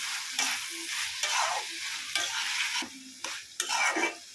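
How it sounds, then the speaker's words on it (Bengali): Dried lotte fish shutki frying with onions in a pan, the spatula scraping and stirring in short repeated strokes over a soft sizzle, close and fairly quiet, no talking. "শুটকিগুলো এখন দিয়ে দিলাম, এখন ভালো মতো কষিয়ে নিব।"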